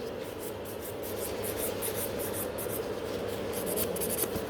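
Steady rapid scratching of a nail file shaping a builder gel nail extension on a form, close and continuous with brisk back-and-forth strokes and no talking.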